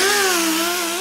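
A polishing machine finishing forged wheels in a wheel factory gives a steady, loud whine with a gently wavering pitch that runs without a break for the whole moment, with no talk over it.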